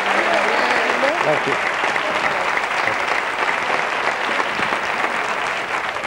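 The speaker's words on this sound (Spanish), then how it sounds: "un aplauso para nuestra compañera Elena" A television studio audience on a copla music show applauds for a presenter named Elena, a full, continuous burst of clapping lasting several seconds while a voice speaks briefly over it.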